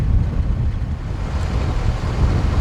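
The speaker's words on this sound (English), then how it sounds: "I am actually being blown by the wind." Strong wind buffets the microphone on a cruise, making a loud, continuous low roar and rumble that fills the whole stretch with no voice heard.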